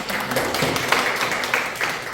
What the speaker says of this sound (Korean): 저는 이제 박수를 쳐드리고 싶습니다